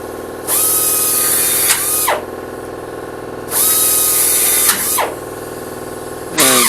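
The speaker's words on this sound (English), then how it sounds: "So first we drill out the smaller hole, then come back in with a large drill bit to finish up the hole." Power drill boring engine mount holes during an engine installation, two loud drilling bursts of about one and a half seconds each with a quiet pause between, and a third starting at the end.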